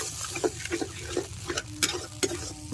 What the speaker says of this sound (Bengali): এবার মশলাটা আরো ভালো করে কষিয়ে নিতে হবে।